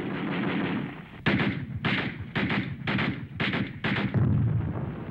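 Heavy automatic gunfire in a battlefield scene with infantry pinned down: several loud, close bursts of rapid shots rattle in quick succession with short gaps between them, over a constant rumbling background and no speech.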